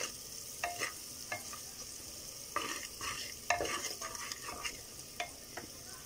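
Pearl millet (bajra) is stirred and roasted in hot oil in a pressure cooker for khichdi: quiet, intermittent spoon scrapes over a soft, steady sizzle.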